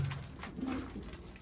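A brief, quiet pigeon coo from a coop of pet pigeons, one low murmuring call over faint background noise.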